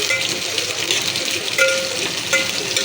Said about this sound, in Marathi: अद्रक लसूण टाकल्याच्या नंतर लसणाने त्याला चांगलं हलवून घ्यायचं